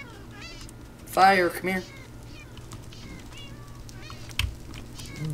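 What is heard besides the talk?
cat meowing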